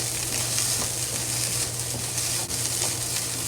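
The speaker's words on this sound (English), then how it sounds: "Slowly fry. Don't let the rice stick to the bottom" Egg fried rice frying slowly in a pan, a dense continuous sizzle held close and loud throughout, with faint stirring scrapes and a steady low hum beneath.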